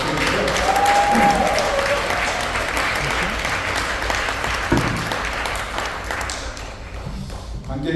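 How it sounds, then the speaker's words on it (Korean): A crowd at a book launch celebrating an author's 100th book claps steadily, a full roomy applause that slowly fades, with a brief bright tone early on and some voices mixed in. "박수"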